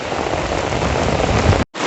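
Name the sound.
heavy rain falling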